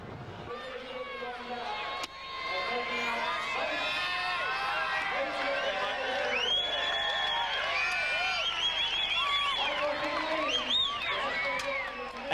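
A large capacity crowd at a speedway showground roars and cheers for a rider, a loud sustained swell of voices and whistles that stays full and dense throughout with excited shouts rising above it.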